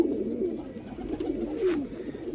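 A pigeon coos in a steady, throaty murmur that runs unbroken across the clip, close by and moderately loud, with a slight swell near the end.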